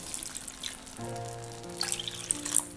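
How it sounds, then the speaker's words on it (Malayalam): Water poured into a simmering red spinach kofta curry gravy, a steady liquid pour with a hollow tone entering over a soft sizzle, close by with no talk. "ഞാനിതിലേക്ക് ഗ്രേവിക്ക് ആവശ്യമുള്ള വെള്ളം ഒഴിക്കണേണ്"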